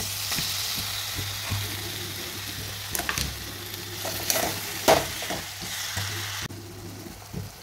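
Spatula stirring roasted eggplant with turmeric, spice masala and red chili in a frying pan, a steady close sizzle with scraping strokes and a few louder knocks against the pan.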